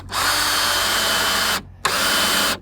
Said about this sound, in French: on vient faire la même chose de l'autre côté et on visse le tout